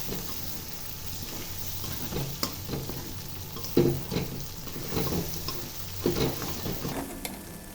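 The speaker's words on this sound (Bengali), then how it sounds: "এবার ডিমগুলোকে কন্টিনিউ বা টানা ধীরে ধীরে 4-5 মিনিট ধরে নাড়তে থাকবো।" Beaten fish eggs fry in a pan over moderate heat, with a soft sizzle under repeated scraping strokes of a spatula stirring steadily through them.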